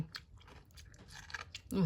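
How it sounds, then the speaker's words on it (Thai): Crisp crunching of quick-pickled mustard greens and bitten chili, sour but still fresh and crunchy, as several close bites follow one another with faint mouth sounds and murmurs. "แล้วก็กัดพริกเข้าไปด้วยนะ"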